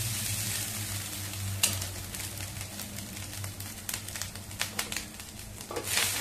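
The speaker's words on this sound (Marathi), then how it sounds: "आपल्याला 2 ते 3 मिनिटं खोबरं चांगलं परतवून घ्यायचंय।" Freshly grated wet coconut sautés in a pan with poppy seeds over medium heat, a soft continuous sizzle broken by scraping and stirring clicks, fairly quiet.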